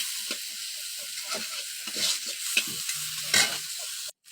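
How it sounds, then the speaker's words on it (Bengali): Hilsa fish gills frying in a pan while being stirred, a steady close sizzle punctuated by repeated scraping and clinking of a spatula. "আমার ফুলকোগুলো সুন্দর ভাজা ভাজা হয়ে গেছে।"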